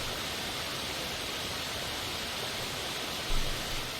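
A waterfall in the survival video game The Long Dark, heard as a steady, unbroken broadband rush of falling water with no voices over it.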